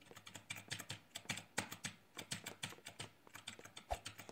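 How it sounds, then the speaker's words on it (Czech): Computer keyboard keys click in a rapid, irregular run of light taps, quiet and close, with no one speaking over them. "Slyšíte, jak tady cvakám prostě klávesu, že jo?"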